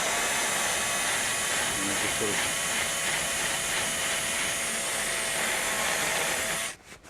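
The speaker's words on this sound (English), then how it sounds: "I'm just going to smooth it out a little bit with a Dremel cutter" A Dremel rotary cutter smooths rough edges on a part from a Ford F-1 pickup restoration, a steady, close, high whining hiss that runs continuously before cutting off abruptly near the end.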